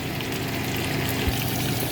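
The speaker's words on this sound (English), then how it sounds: "we're gonna add water to just cover the chicken" Four cups of water pour steadily into a pot of chicken, a constant broadband rush with a brief knock partway through, close and moderately loud with no talking.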